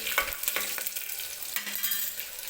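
Green chillies, curry leaves and whole spices hit hot oil for tomato rice, giving a steady close sizzle with quick spatula scrapes and clicks throughout, no voices.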